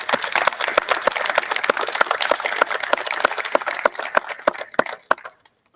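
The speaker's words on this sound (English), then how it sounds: "Would you please just join me in a round of applause for them" Applause from the audience at a town's annual state-of-the-town address, many hands clapping with distinct sharp claps, steady for several seconds before thinning out and stopping near the end.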